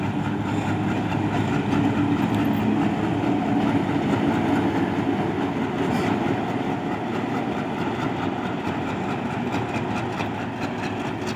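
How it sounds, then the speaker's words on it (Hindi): Shunting locomotive moving slowly around the yard at Multan Cantonment railway station, a steady close rumble of engine and rolling wagons with faint wheel clatter, no talk. "तो ये अभी आपको शंटिंग लोकोमोटिव की तरफ लेके चलते हैं, जो कि शंट में बिजी है।"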